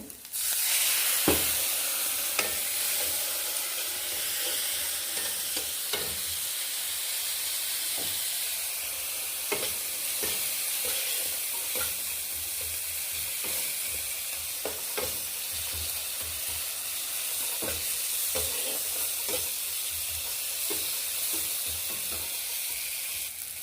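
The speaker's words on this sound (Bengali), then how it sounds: "এবার এটা একটু জল দিয়ে কষবো" Spices (coriander, cumin, chili and turmeric powder) sautéing with a little water in a pan for egg chop give a steady close sizzle and hiss, with light scattered stirring clicks throughout.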